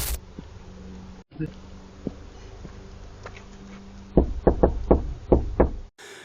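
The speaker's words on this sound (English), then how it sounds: "an unexpected knock at the door cut through the silence" Sharp knocks rap on a van door in two uneven bursts of several blows each, loud and close, after a stretch of quiet low hum.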